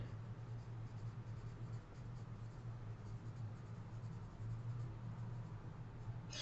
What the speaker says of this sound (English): on the bottom right-hand corner, I'm going to write my name and period